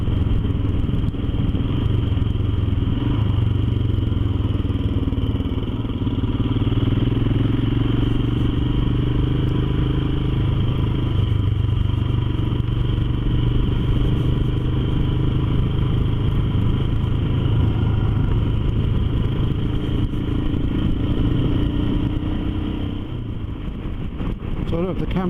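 A motorcycle rides along a road in sunny weather. The engine drones steadily with a low rumble and road roar, loud and constant from start to finish.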